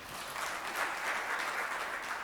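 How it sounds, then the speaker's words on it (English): Soft, distant applause from a forum audience for a session moderator, a continuous patter of many hands at low volume. "I hope you'd agree with me that the moderator also deserves a round of applause"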